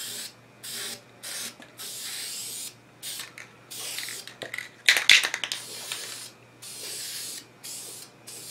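Short spray-paint can bursts coating a school desk, hissing in repeated pulses with brief pauses, close and fairly quiet, plus a cluster of rattling clicks midway.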